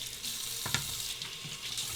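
A water tap runs steadily into a sink while a safety razor is rinsed, a close, continuous hiss with a few brief splashes as the blade passes through the stream.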